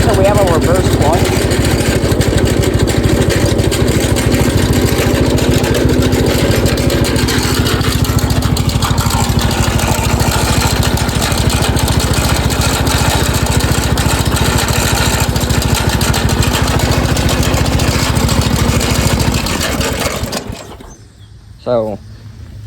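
A small square-bodied riding lawn mower with worn piston rings runs loud and close, its engine droning steadily with shifting revs before cutting off abruptly near the end.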